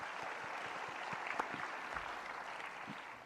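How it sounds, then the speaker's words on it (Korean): A church congregation applauds as a blessing, producing a continuous, fairly soft wash of clapping that holds steady throughout with a few sharper claps standing out. "박수로 한번 축복하십시다"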